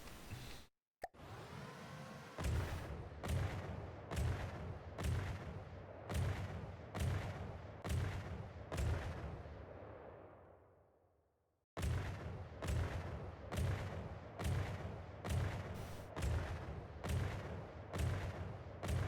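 Cruiser guns fire in the naval game From the Depths, loud, evenly spaced booming shots in a rapid steady rhythm, a pause with a fading rumble, then the regular volley resumes.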